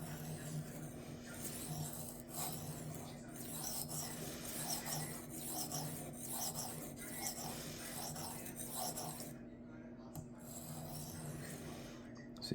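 A blade is worked back and forth on a cheap Chinese whetstone in a tray, giving soft rhythmic scraping strokes, close and quiet, with a low steady hum underneath.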